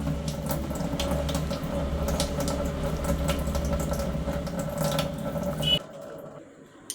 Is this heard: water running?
yes